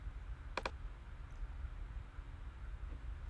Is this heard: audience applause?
no